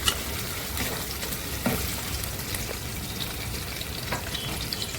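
Mutton fat fries in hot oil for a home-style mutton curry, with a continuous, moderately loud sizzle, occasional soft pops and stirring sounds, and no one talking.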